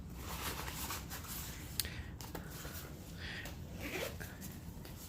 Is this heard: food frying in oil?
no